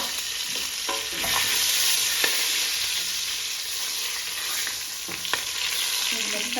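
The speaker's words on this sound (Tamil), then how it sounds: "இப்போ இதுக்குள்ள நான் ஏலக்காயை போடுறேன், கிராம்பு, பைனாப்பிள் ஃப்ளவர், பே லீஃப்" Cardamom, cloves, star anise and bay leaf fry in hot oil for prawn biryani, giving a steady bright sizzle broken by a few clinks and scrapes of stirring.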